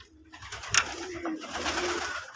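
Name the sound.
red pigeons cooing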